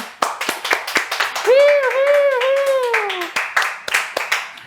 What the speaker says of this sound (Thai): คุณฟ้าใรขอเสียงปรบมือหน่อย